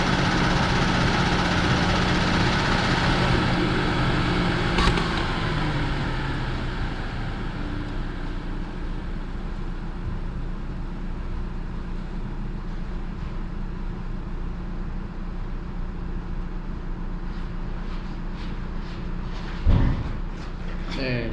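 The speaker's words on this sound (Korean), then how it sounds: "이게 정상적인 엔진 소음이에요." Genesis G80 engine idling in a steady low hum throughout, with a louder passage near the start, a brief knock around five seconds and another near the end.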